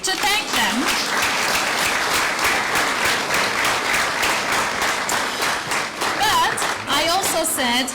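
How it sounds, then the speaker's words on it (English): A large crowd at a university commencement for the Class of 2022 applauds continuously, a thick wash of clapping at full strength, with a few scattered voices and cheers rising over it near the start and end. "give your family, your friends, and your faculty an applause to thank them"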